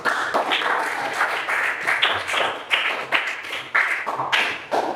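A class of children claps together in quick, patterned bursts, the sharp claps repeating steadily and close by for several seconds with no talking over them.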